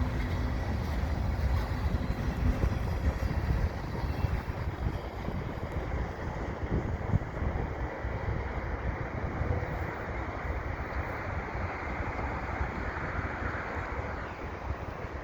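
Last cars of a CN freight train rolling past near Dorval Station, a steady broadband roar and rumble that holds at a constant loud level throughout, with a wind-like rush and no talk.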